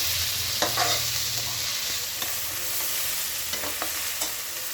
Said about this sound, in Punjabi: ਇਹਨੂੰ ਬਸ ਜਰਾ ਭੁੰਨ ਲਵਾਂਗੇ ਤੇ ਥੋੜਾ ਫਲੇਵਰ ਅੱਛਾ ਆ ਜਾਂਦਾ